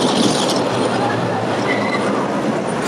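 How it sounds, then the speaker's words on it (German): The Drachenbahn dragon roller coaster at LEGOLAND Germany rumbles along its track with a steady, loud rolling roar and faint wheel squeal, heard close by and continuously for the whole stretch. "Mal stehe ich hier und filme die Drachenbahn."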